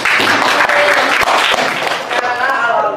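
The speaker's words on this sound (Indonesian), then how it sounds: "Tepuk tangan buat." Classroom applause from eighth-grade students after their perspective drawings are shown, a dense burst of clapping filling the room, with a voice briefly heard over it.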